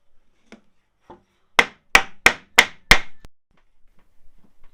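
Five sharp metallic hammer blows on seized brake caliper pistons of a Subaru Forester, in quick, even succession, loud and close, framed by a few fainter taps before and after.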